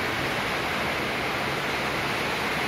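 Water bubbling inside a SATF-WB20 electric water boiler, a steady hissing, rushing wash of noise without distinct pops, fairly faint and unbroken.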